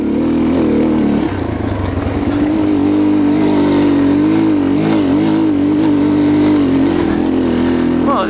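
A Yamaha TTR230 trail bike engine drones steadily up close while riding rocky off-road terrain, its pitch wavering and rising with throttle changes, continuous and loud.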